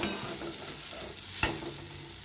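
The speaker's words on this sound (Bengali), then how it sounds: "এইভাবে আমি কিছুক্ষণ ভেজে নেব।" Dal puri lentil filling frying and being stirred in a pan, a steady soft sizzle with two sharp scrape clicks from the spatula, close and without talk.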